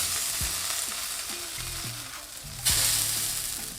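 A chicken burger patty sizzles loudly in a hot pan, a close, continuous crackling fry with a few scraping touches and a sudden louder burst of sizzle near the end.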